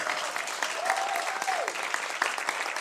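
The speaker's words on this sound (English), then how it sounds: "A nice round of applause for organizing committee." Audience applause at a doctoral researcher summer school, steady clapping throughout with a few faint voices mixed in.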